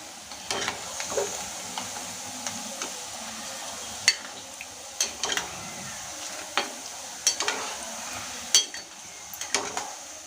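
Boondi batter for motichoor laddu frying in hot oil on a high flame, a constant soft sizzle with scattered metallic clinks and scrapes of a slotted ladle against the pan.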